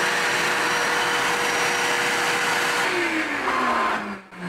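A FoxAlien XE Pro CNC spindle spins alongside a running Walmart shop vacuum, a loud steady whirring roar with a rising whine, then the motor pitch slides down as it slows near the end.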